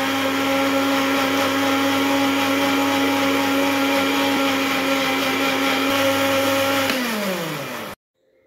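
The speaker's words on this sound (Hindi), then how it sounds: "दस सेकंड्स के लिए हमने ब्लेंडर को ऑन किया।" A blender whirs steadily as it mixes eggless mayonnaise with oil, a loud, close motor hum that holds even, then winds down in pitch and cuts off near the end.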